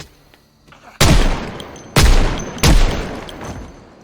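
Three loud, close bursts of M1919 machine gun fire in a video game, each a heavy blast with a decaying rumble tail, spaced about a second apart over a quiet background.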